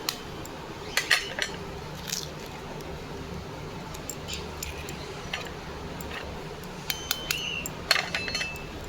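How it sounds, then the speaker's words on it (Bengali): Two eggs cracked into a bowl of ground lentil paste, sharp taps and clinks of shell on the rim scattered among quieter handling noise. "দুটো ডিম নিয়েছি দুটো ডিম ফাটিয়ে নেব"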